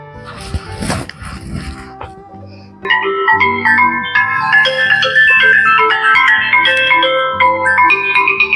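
A mobile phone rings with an incoming call in a domestic family skit, a loud repeating electronic melody that starts abruptly and runs steadily to the end after a brief noisy bustle.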